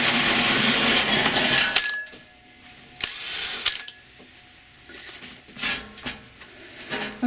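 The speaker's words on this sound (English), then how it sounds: "that's the second hole drilled" A drill bores a hole in a metal ammo can, a loud grinding whine for about two seconds that breaks off, followed by scattered clanks, taps and short bursts of metal handling nearby.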